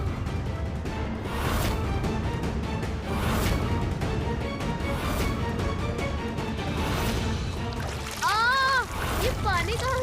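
Water splashing and sloshing continuously amid busy background noise, with voices talking over it and a brief squeaky tonal sound near the end.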